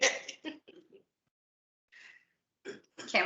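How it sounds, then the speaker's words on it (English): A short throat-clearing burst after a brief stretch of talk, followed by a pause, then a softer breathy rasp and more speech. "Clearing my throat."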